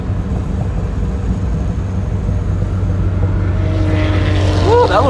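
A Miata race car runs on a track, its engine a loud, steady drone that holds up close, then a higher whine rises near the end as another car approaches.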